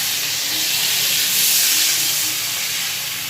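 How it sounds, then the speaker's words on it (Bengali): Water poured into a hot pan of ridge gourd, bursting into a loud, steady hiss and sizzle of steam that swells slightly and holds throughout, no talk. "এবার একটু জল দিয়ে দেবো"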